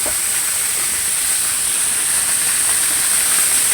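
Tumalistis Falls in Caibiran, Biliran, Leyte: a loud, constant rush of falling water, a broad steady hiss with no breaks and no voices.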